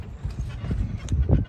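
Horse hooves clip-clop in an uneven trot while pulling a tour carriage near Lake Tahoe, Nevada, heard close and moderately loud over a low rumbling background.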